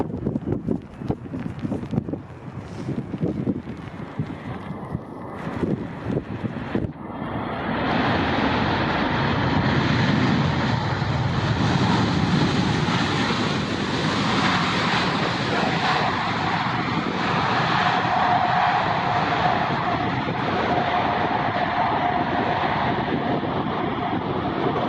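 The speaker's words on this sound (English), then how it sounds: "the world's largest passenger jet lands in ridiculous weather" The world's largest passenger jet landing in strong wind: broad roaring engine and wind noise swells after a few seconds of gusty buffeting, then holds loud and steady for the rest of the span.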